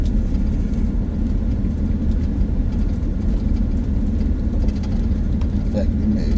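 A car drives downhill on a gravel mountain loop road in the Bison Range near Missoula, Montana, with the driver riding the brake. A steady, close, low rumble of engine and tires continues throughout, and a voice talks over it.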